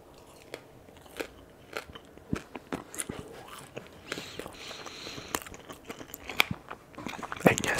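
Crunchy bites and chewing of fried shrimp tail sushi, close and crisp, with sharp cracking snaps scattered irregularly over several seconds and faint breathy background.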